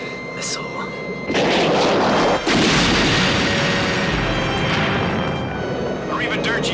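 A Sidewinder heat-seeking missile launches in an action-movie dogfight with a loud roaring whoosh that holds strong and sustained for several seconds, briefly dipping before continuing, with faint voices at the edges.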